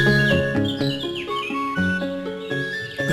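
Several birds chirp and tweet in a busy, overlapping chorus, with bright calls layered over a steady background of sustained tones, fairly loud and continuous throughout.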